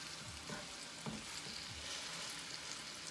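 Short ribs browning in a hot pan, a faint, steady crackling sizzle with a few soft knocks, heard alone without voices.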